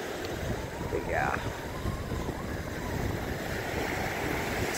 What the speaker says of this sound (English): It's awesome to fall asleep with the sound of the water and the waves.